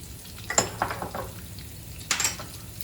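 Cumin seeds hit hot oil in a pan and crackle in a few short sizzling bursts, fairly quiet and close, with a soft spluttering hiss between the pops.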